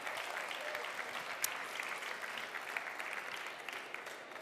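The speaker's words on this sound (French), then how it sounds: "on peut les applaudir encore bien fort" An audience applauds steadily with dense, even clapping at a closing thank-you during a French event, moderately distant and continuous throughout, with no speech over it.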